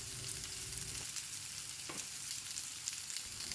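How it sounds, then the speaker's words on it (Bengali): Ridge gourd slices frying in oil over a high gas flame, giving a steady close hiss and sizzle that runs the whole time without talk. "এখন গ্যাসের ফ্লেম হাই করে ঝিঙেটাকে একটু ভালো করে ভেজে নিতে হবে"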